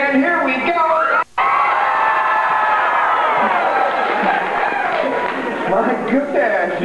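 An audience at a Western saloon show at Disneyland claps and cheers loudly, a sustained crowd roar with whoops and children's shouts, briefly cut off by a gap before continuing.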